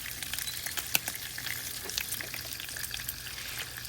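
Food sizzles and fries steadily on a Blackstone griddle outdoors, a constant crackling hiss with small pops throughout.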